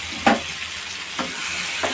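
Ingredients frying in a pan for an egg recipe, a steady loud sizzle broken by three spaced spatula scrapes, close-up with no speech.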